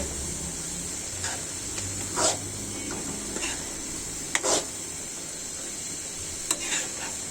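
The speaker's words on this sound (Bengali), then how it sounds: "এটা নাড়াচাড়া করতে থাকবো" Chicken and cabbage curry stirred in a pan, a steady hiss of frying throughout with a few scraping strokes of the spoon breaking through at irregular intervals, close and fairly loud, no talking.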